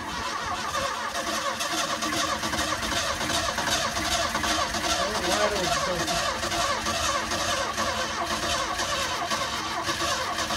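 A 1977 Ford Mustang II engine, unused since 1989, cranks continuously with a loud, steady churning rumble, straining without catching, close up and uninterrupted for the whole stretch.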